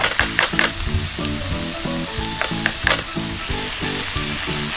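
Ketchup sizzles and spits as it is stir-fried with mushrooms in a pan for omelet rice, a steady loud frying hiss with repeated scraping stirs and occasional sharp pops, no talking.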